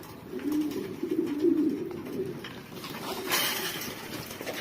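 Racing pigeons coo in a low, steady warble up close, the soft rolling calls running continuously with brief swells and a short louder burst of other noise near the end.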